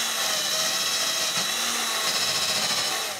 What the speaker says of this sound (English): Now the other thing I'm doing is just cleaning off the ends of these fasteners. Very, very soft wire brush.